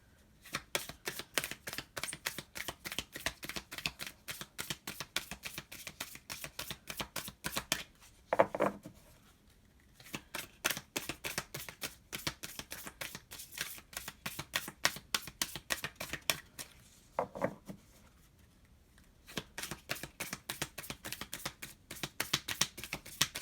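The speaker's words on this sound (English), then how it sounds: "As I shuffle, I'm kind of looking at the cards that we've already laid down." Rapid riffle-shuffling of a tarot card deck, repeated bursts of crisp flapping with short pauses between, close and fairly loud.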